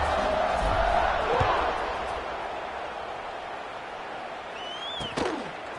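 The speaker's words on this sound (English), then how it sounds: "You think this crowd's going to get loud when their defense comes on the field?" A broad stadium crowd roars in College Football 26 during a Coastal Carolina at Wyoming kickoff, a steady distant wash of noise that swells early and fades a little, with a brief sharp accent near the end.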